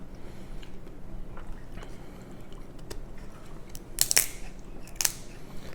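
Quiet room tone broken by a few sharp cracking snaps near the end as metal crab-cracker scissors crunch through hard crab shell.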